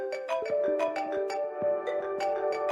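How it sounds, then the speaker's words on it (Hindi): A mobile phone rings nearby with a looping electronic melody of bright repeated tones, steady and moderately loud, with no talking over it. "फोन आ गया है।"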